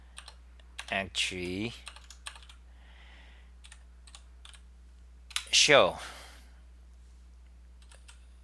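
Keys clatter on an Ogodox computer keyboard in short, sparse bursts of crisp clicks, close and fairly quiet, between stretches of someone talking.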